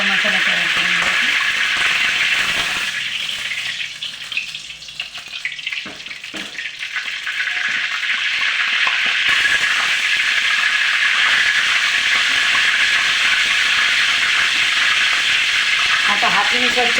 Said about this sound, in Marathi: आपला इथे तेल गरम होत आहे